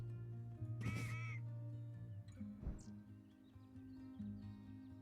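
A crow-like cawing call plays as a bird card is put down in the digital Wingspan European Expansion board game, two harsh caws over a soft sustained musical background, with no talking.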